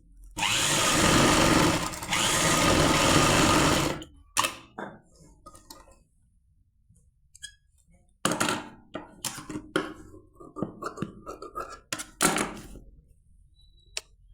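An electric sewing machine stitching a lined shirt runs in a loud, steady four-second burst, then falls to quiet handling clicks and thumps before a second stretch of shorter, choppier stitching and rustling.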